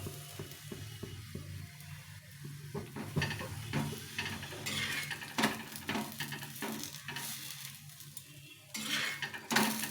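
Cauliflower coated in wheat flour fries in oil or ghee in a pan. A spoon scrapes and clinks irregularly against the metal over a soft, continuous sizzle, with no voices.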